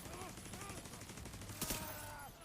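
Incendiary gunfire in The Division 2, a run of sharp shots with one loud burst near the middle, heard amid game sounds and faint talk.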